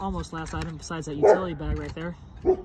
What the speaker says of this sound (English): that's my dog in the background barking.